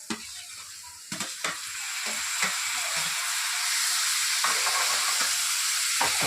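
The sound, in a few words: tomatoes frying in a pan for ivy gourd curry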